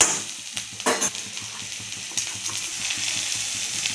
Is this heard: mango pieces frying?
yes